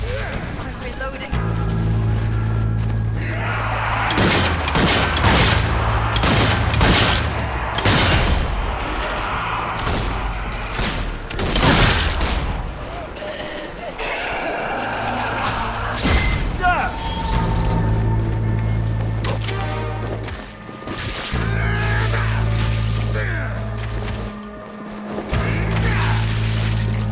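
Gunfire in the zombie shooter Zombie Army 4 cracks in bursts of sharp shots and booms amid game noise, with a voice talking over it now and then.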